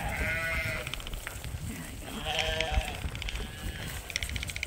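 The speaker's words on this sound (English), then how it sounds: "The sheep are starting to get the routines now that we've been doing so much work with them." Sheep and lambs on a farm bleat repeatedly, several wavering calls overlapping from close and mid distance, with no talk over them.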